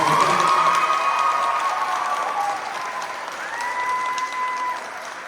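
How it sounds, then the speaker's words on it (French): An audience at a concert applauds after a dance performance, a dense, fairly loud burst of clapping that fades slightly over a few seconds while a high whistle-like tone sounds above it. "je vais vous demander encore d'applaudir une dernière fois"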